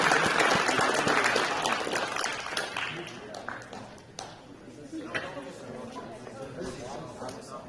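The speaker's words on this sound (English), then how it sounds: "one more round of applause for Mr. Luke Mussard" Audience applause at a high school signing day ceremony, loud dense clapping at first that thins into scattered claps amid crowd chatter and voices.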